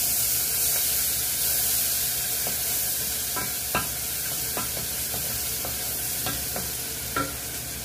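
Garlic and spices drop into a hot, sizzling sauce for baked mince macaroni, giving a continuous loud frying hiss punctuated by scattered stirring clicks and spoon taps.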